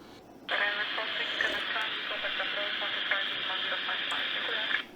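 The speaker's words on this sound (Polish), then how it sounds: "No i słyszycie, że się odezwało." Steady hiss of an AOR AR8200 radio receiver opening up with a transmission coming through, a faint voice-like warble under continuous static for several seconds.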